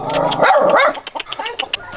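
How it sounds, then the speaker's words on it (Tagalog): Several dogs bark and yip close by in quick, uneven bursts, one whining tone rising briefly among the sharper barks. "Oh, ang dami ng aso."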